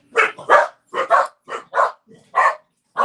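A dog barking in quick, loud, close bursts, about eight sharp barks in uneven pairs with brief silences between, heard alone indoors.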